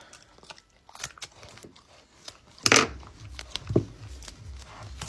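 Scissors snip through adhesive tape once, a sharp crunchy cut with a second smaller snip after, close and alone over a quiet room, for posting a dog's ears on an American Bully.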